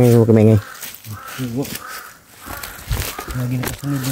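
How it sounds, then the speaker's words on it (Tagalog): A crow caws repeatedly outdoors, several loud, harsh, nasal calls in short bursts that come at the start and again near the end, with people talking and footsteps in between. "Andyan yung uwak sa unahan oh."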